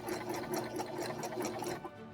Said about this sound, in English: you can keep the needle in the machine, pick up the presser foot, turn your work around, set your presser foot back down,